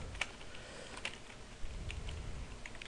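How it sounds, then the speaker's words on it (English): Random numbers tapped out on a computer keyboard, a quiet run of quick clicking keystrokes in uneven bursts with no voices. "I'm just going to type in a bunch of random numbers"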